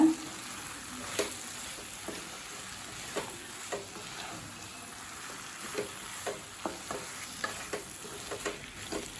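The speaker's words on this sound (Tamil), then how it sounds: "இப்போ நல்லா வதக்கியாச்சுங்க" Eggplant and drumstick pieces sizzle softly in a pan for a Tamil poriyal, with a steady low frying hiss and a series of scraping stirs from a spoon at irregular intervals.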